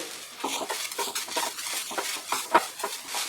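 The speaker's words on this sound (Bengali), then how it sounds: "মাঝারি আঁচে আমি ফ্রাই করছি।" Grated coconut frying in a pan over a medium flame, giving a steady soft sizzle broken by repeated scraping stir strokes and a sharp utensil clink near the end.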